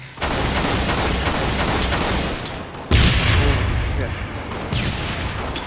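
Halo Reach team slayer match on the Asylum map, with dense in-game gunfire and a sharp grenade blast near the midpoint, followed by further shots; players talk over the action.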